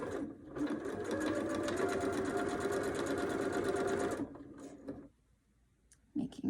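A sewing machine stitches a zipper pocket in a steady, fast mechanical whir for about four seconds, then stops, leaving near silence before a brief start of machine noise at the end.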